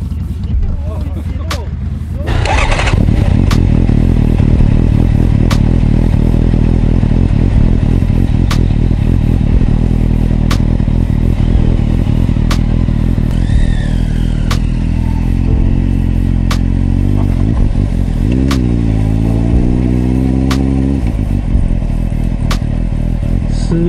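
A motorcycle engine starts up and idles loudly nearby at a spot crowded with motorcycles, then revs and rises in pitch, with rattling clatter and brief voices.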